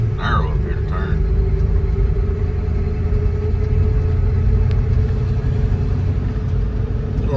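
A 1947 Ford truck rolls down a narrow road, its low engine rumble and road drone steady and close throughout, with brief talk near the start.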